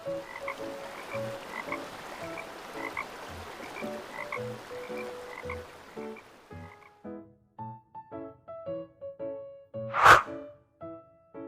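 Frogs croak in rapid, rhythmic bursts, several overlapping at first, then sparser, with a single loud plop near the end.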